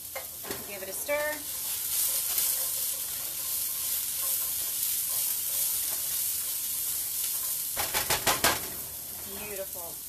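Carrots stirred in a sizzling pot for vegan minestrone soup, a steady soft frying hiss throughout with scraping stir strokes near the start and a louder clattering cluster near the end.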